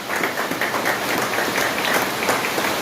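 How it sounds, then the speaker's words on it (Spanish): A church congregation claps hard and steadily together, a dense wash of many hands filling the room with no gaps, loud and continuous throughout. "Dale fuerte palmas al Señor."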